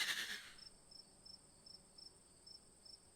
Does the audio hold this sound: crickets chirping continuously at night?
yes